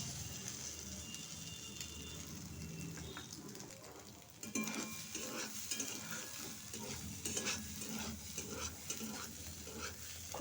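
Faint frying of egg with potatoes in a pan, soft sizzle under repeated scraping stirs of a utensil that grow clearer and more rhythmic in the second half.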